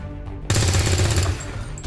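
A loud burst of rapid gunfire aimed at a zombie in XCOM 2 breaks out suddenly after a quiet moment and rattles on for over a second before easing off.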